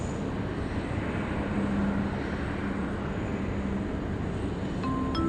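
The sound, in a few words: Qantas airliner landing at Sydney Airport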